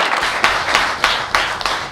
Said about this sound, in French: à travers vos applaudissements